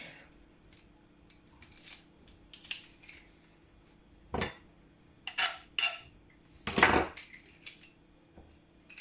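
Garlic cloves are crushed for a Jamaican curry chicken, heard as a series of sharp, irregular knocks and crunchy scrapes on a hard surface, close and separated by quiet gaps.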